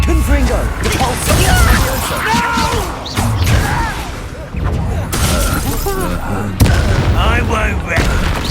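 Confringo and Depulso spell blasts in the Hogwarts Legacy video game burst repeatedly as loud booms and crashing impacts, one after another in quick succession, while someone shouts spell names over the combat.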